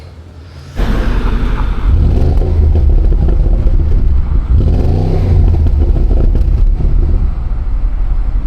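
A Porsche Cayenne Turbo's 4.8-litre twin-turbo V8 rumbles steadily at close range after a sudden start, its deep exhaust note swelling and easing in a couple of revving surges.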